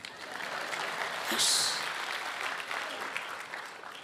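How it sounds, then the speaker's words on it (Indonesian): A church congregation applauds during a sermon, sustained crowd clapping at even loudness with a brief bright burst of noise partway through. "Tepuk tangan"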